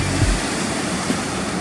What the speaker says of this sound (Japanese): 海には波はありますが